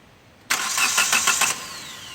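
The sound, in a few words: Hyundai i20 car engine starting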